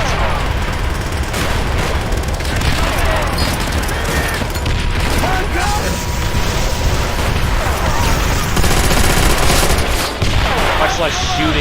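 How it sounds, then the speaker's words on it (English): Sustained automatic gunfire from an MG42 machine gun in a World War II video game, loud and continuous across the whole stretch with dense bursts, explosions and shouted voices mixed in. "Much less shooting the MG42 while having it on your back."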